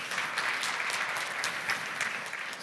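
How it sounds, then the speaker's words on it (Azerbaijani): A conference audience at a sales forum claps in a steady burst of applause that fills the hall evenly for a few seconds, without voices over it. "Xahişimi alqışlayın, Ramil bəy."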